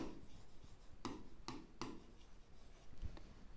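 Pen writing on paper during a class 9 maths lesson on linear equations: scratchy strokes in three distinct bursts with softer scratching between, close and quiet, no talk.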